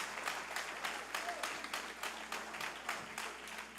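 Steady church congregation applause fills the clip, dense clapping from many hands at moderate volume, continuing without pause.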